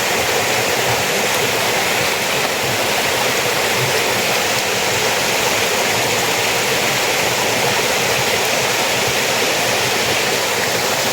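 A waterfall deep in a forest pours in a loud, steady, unbroken roar of rushing water, filling the whole clip with no voices.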